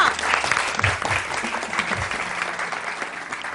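A studio audience on a Pakistani morning TV show breaks into brief, lively applause, a dense burst of clapping that stays loud from start to finish.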